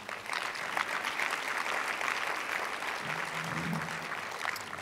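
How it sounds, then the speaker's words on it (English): Indoor audience at a university lecture applauding the planning committee, a dense, sustained round of clapping from a large crowd, steady throughout with a brief murmur near the end. "Will you join me in giving them a round of applause?"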